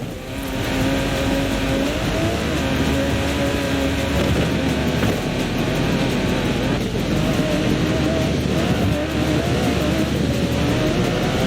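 An Aston Martin DB11 driving in Forza Horizon 4, its engine droning loud and steady throughout with slight shifts in pitch as it holds speed, close and continuous with no pauses.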